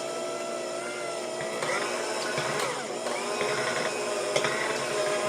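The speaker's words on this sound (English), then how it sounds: "we're going to use our hand mixer, and we are just going to smooth it out a little bit" An electric hand mixer whirs steadily, smoothing peppermint crisp tart filling in a bowl, with a continuous close buzzing drone and faint shifts in pitch as the beaters move.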